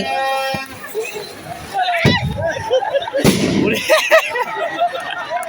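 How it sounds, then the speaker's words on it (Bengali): Fireworks bursting at an outdoor music program of a badminton tournament, several sharp loud bangs in succession with crackling, while an announcer speaks and a crowd murmurs. "একের পর এক কিন্তু আতসবাজি ফুটছে"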